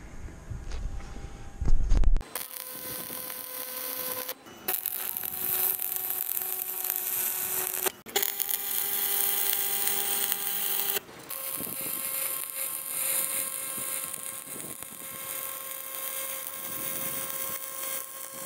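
A steady electric welding arc runs on a knife blade, a continuous buzzing crackle with tonal hum that breaks off briefly several times between passes, close and fairly loud, with no talk.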